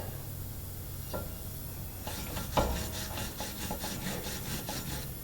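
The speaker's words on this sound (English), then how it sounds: "clean what rust off of them I can" Rust is scrubbed off rear brake parts from a 2016 Dodge Grand Caravan: a steady run of rhythmic rubbing, scraping strokes at moderate volume with no talking.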